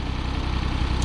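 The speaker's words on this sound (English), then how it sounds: "That's a nice sounding little engine." A repaired John Deere 322 lawn tractor engine idling, a loud, steady, even low chugging that runs throughout with no voices.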